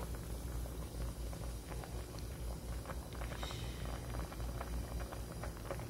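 Squid soup with onion and radish boiling in a pot, a faint, continuous bubbling and gentle patter with no talking.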